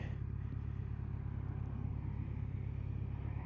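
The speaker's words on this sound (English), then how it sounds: "There's rather a lot of traffic." Busy road traffic at a junction heard from a waiting motorcyclist, a steady low rumble of car and motorcycle engines that continues throughout at moderate distance, without clear individual pass-bys.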